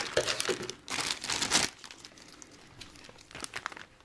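Plastic bag holding parts of a 1953 Chevrolet Corvette Convertible model kit by AMT/ERTL crinkles loudly in a few bursts as it is handled and pulled at, then quieter rustling follows.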